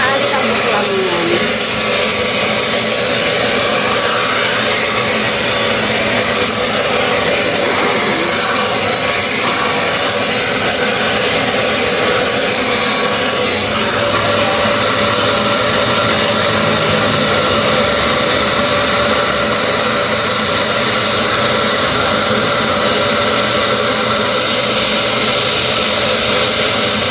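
A vacuum cleaner runs loud and steady with an even airy whine that barely changes throughout, filling the space up close while a voice talks over it.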